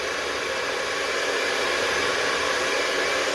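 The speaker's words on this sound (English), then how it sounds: "and then holding the hairdryer above and over the top." A hair dryer blows steadily with a constant, loud airy whoosh and no talking.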